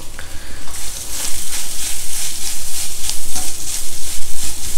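Fresh grated coconut sizzles and fries in a pan while being lightly stirred, giving a steady close crackle with soft rhythmic scraping pulses and no voices.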